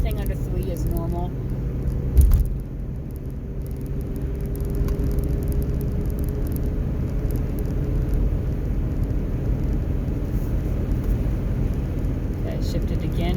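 A 2004 Ford Explorer engine under acceleration holds a steady rumbling hum inside the cabin, with a brief knock near the start where a gear change may land. Someone talks over it.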